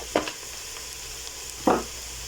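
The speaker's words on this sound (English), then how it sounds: "give it a quick mix and allow it to cook for just 3 seconds or so." Rice and mixed spices sizzle steadily in a pan, broken by two quick, sharp scraping strokes of stirring, heard up close without any talking.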